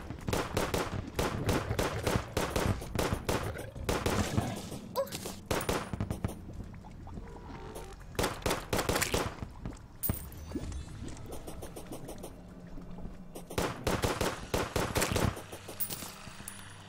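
Shotgun blasts firing meteorite bullets in Terraria, rapid clusters of sharp repeated shots in several bursts separated by brief pauses, loud and close over quiet game ambience.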